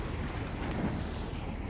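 Choppy sea water slaps against a tour boat cruising the Santorini caldera, a steady broadband wash of waves mixed with wind buffeting the microphone, continuous and fairly close with no voices.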